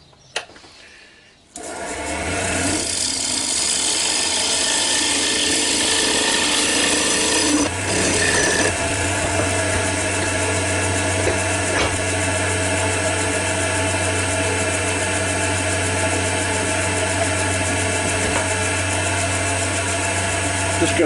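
A carbide cutter scrapes a spinning piece of wood on a lathe, a loud continuous rasping hiss over the motor's steady drone, starting abruptly after a brief quiet moment.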